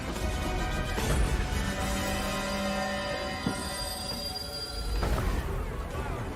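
A train rumbles past in a video game trailer shown at the PC Gaming Show, amid a noisy, dramatic mix of sustained tones, with heavier crashes near the start and again toward the end.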